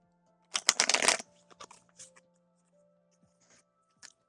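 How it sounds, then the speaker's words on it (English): Tarot cards are shuffled close up, a quick riffling burst followed by a few soft taps and slides of the deck against a quiet background with a faint steady hum. "I wonder if you can hear the card shuffle"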